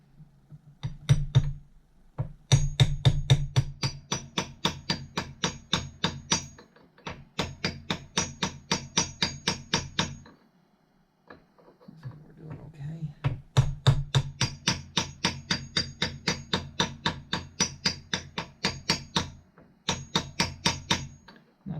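A Craftsman hammer taps a crank seal into a 1973 Kawasaki G5 engine case, making rapid runs of sharp metallic strikes in several bursts separated by short pauses, loud and close.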